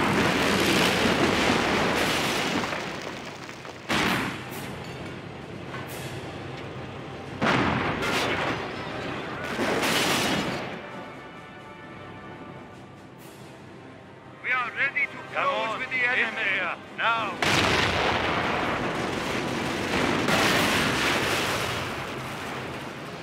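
Artillery battery firing in Company of Heroes: Tales of Valor, with several heavy booming blasts spread through the stretch, loud and close, with rumbling tails and battlefield noise between them; voices speak over parts of it.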